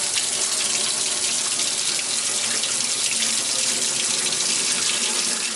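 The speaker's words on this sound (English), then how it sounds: "That you see here is my kitchen sink, and when I come the water in, it not runs so fast out." Tap water runs steadily into a kitchen sink whose drain is slow, a continuous close broadband splashing rush that holds at an even level throughout with no pauses.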